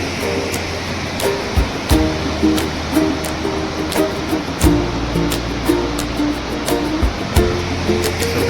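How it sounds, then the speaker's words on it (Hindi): The fast-flowing Sutlej river near Kalpa in Kinnaur gives a loud, continuous broadband rush, with repeated sharp knocks and thumps over the steady roar. "इसके बगल में बहुत ही तेज स्पीड में बहती हुई सतलुज नदी"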